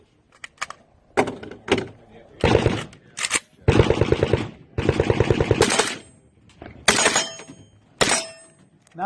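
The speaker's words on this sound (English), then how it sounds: "You're good to shoot the steel." Gunfire at steel targets on a shooting range comes in rapid bursts and single shots, loud and close, separated by short pauses, with a voice briefly heard between strings.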